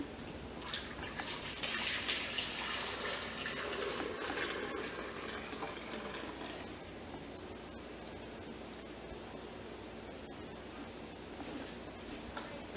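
Blended, strained tomatoes pour back into an Instant Pot as a soft, steady liquid wash, stronger in the opening seconds and then easing to a quieter trickle, with no talking.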